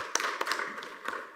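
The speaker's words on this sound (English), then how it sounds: "Thank you, and applause." Scattered applause from a small conference audience at the close of a talk, a few sparse claps standing out over a faint room background.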